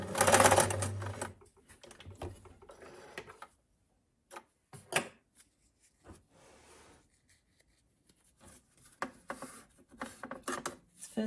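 A sewing machine runs in short stitching bursts as small scrap fabric pieces are joined right sides together for a key ring, with pauses and light handling rustles between the runs.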